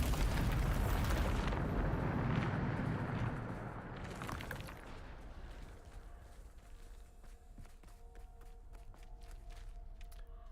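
Bombarda explosion spell from Hogwarts Legacy: a loud booming blast with crumbling debris for a few seconds, then decaying into quieter game ambience with scattered small clicks and tones.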